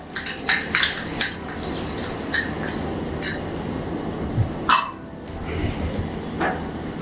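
Spatula scraping and clanking against a pan as soaked masala is stirred and sautéed with tomatoes for maa ki dal, scattered sharp metallic knocks over a low, steady sizzle.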